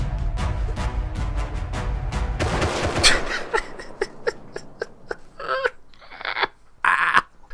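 Gunfire in the survival game Rust, starting as a dense, loud burst of shots that gives way to a string of sharp, separated single cracks spaced unevenly, with a few brief distant pops near the end.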